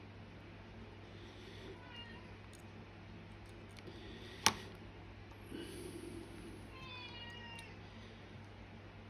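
A pet cat meows faintly a few times in an indoor room, over a low hum, with one sharp tap and quiet murmured talk.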